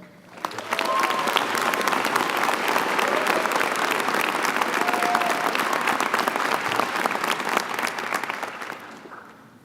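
Audience applause welcoming a student speaker at the CCAD 2019 college commencement: dense, steady clapping from a large crowd, sustained for about nine seconds before tapering off at the end.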